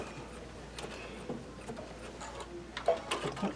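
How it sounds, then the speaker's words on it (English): A Brother Luminaire sewing machine stitches with its embroidery arm attached, giving a faint, quick mechanical ticking and clicking that runs steadily, with a few sharper clicks near the end. "We can sew with the embroidery arm on."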